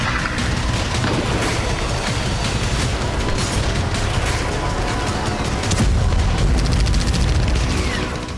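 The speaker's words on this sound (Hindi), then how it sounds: "स्वेदा में कबीलाई लड़ाके आरपीजी से फायर कर रहे हैं, गोलियां बरसाई जा रही हैं।" Heavy gunfire and explosions from tribal fighters firing RPGs in Sweida, southern Syria, with dense, loud, continuous bursts of shots and booming blasts filling the whole stretch, no talk.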